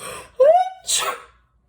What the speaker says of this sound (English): I sneezed once again